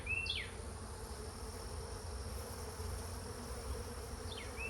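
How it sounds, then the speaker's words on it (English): Honeybees buzz around hive frames in an outdoor apiary, a faint continuous drone with a couple of brief passing chirps of a bird in the background. "they got bees on them, so they're a lot of bees."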